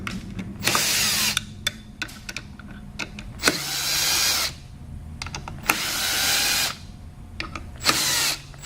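A power tool loosens bolts on a drive motor and stiffening bracket in bursts: several whirring runs of about a second each, separated by ratcheting clicks and handling clatter, close and fairly loud.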